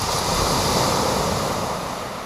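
Waves break steadily on a winter beach at Aldeburgh at night, a continuous loud wash of surf with wind noise and no voices.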